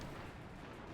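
Naval gunfire from a warship broadside in a warship video game, a dense low rumbling blast that fills the whole short moment, heavy and close.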